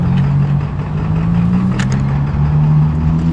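A customer's car engine runs with a rough, tractor-like note, a steady low rumbling drone that holds evenly throughout with no pauses.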